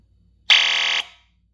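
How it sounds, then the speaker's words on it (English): A Simplex fire alarm horn on a 4100ES system sounds during a magnet-triggered self-test: one loud, steady electronic blare about half a second long that cuts off abruptly, with no talk. "It does like a horn sound and then tests the strobe."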